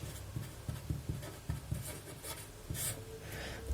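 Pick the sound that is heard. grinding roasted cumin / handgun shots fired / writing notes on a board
writing notes on a board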